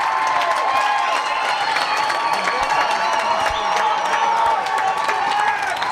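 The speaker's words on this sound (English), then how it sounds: "This crowd is on their feet for Dort." A volleyball arena crowd cheers and claps on its feet during a close match, a loud sustained roar of voices and whoops that fills the whole stretch, with a commentator faintly audible beneath.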